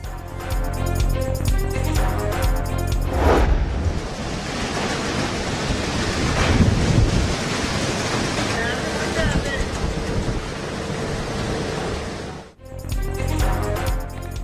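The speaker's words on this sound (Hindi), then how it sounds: "लाहौर और गुजरावाला समेत पंजाब के मुख्तलिफ शहरों में तेज हवाओं के साथ बारिश" Heavy rain driven by strong winds in Punjab cities such as Lahore and Gujranwala makes a dense, steady roar that continues loudly throughout.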